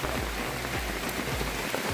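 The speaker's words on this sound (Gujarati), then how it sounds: "વરસાદ આવે છે એટલે થોડી મોજ વિખાઈ જાય છે." Rain falls at the Saputara hill station, a dense, even patter of drops striking nearby surfaces for a couple of seconds, with no speech.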